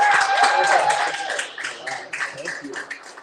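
Audience applause at a business talk, a dense burst of clapping that is loud at first and then thins out, with a voice talking over it near the start.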